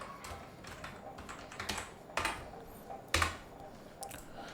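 A title being typed on a computer keyboard, a close run of light, irregular key clicks with a few louder, sharper strikes, with no talking.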